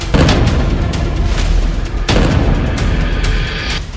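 Israeli artillery fire shelling Gaza around Khan Younis, heavy booming blasts in quick succession, loud and close, with rumbling bursts layered over one another.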